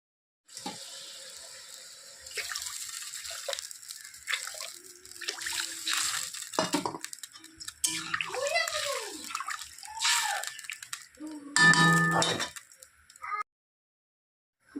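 Water poured into a cooking pot of lentils, splashing and gurgling in several irregular pours close by, with someone speaking over and between them.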